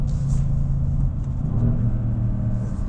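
A 503 hp Mercedes-Benz C63S AMG engine rumbles deep and loud from inside the car, revving high near redline in a sustained low growl with slight pitch shifts.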